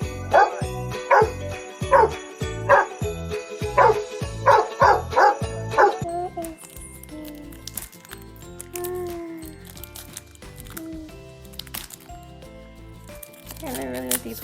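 A toy dog gives a quick, loud run of about eight evenly spaced electronic barks close by, followed by tinkling jingles and softer toy sounds, with people talking nearby.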